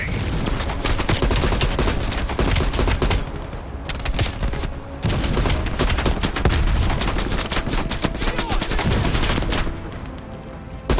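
Machine gun fire in the video game Call of Duty: Cold War rattles in dense, loud sustained bursts with brief pauses, layered with other gunfire and battle noise.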